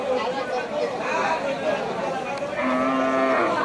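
At a rural Eid cattle market in Saturia, Manikganj, a cow lets out a drawn-out low moo close by, over the steady murmur of crowd chatter and voices.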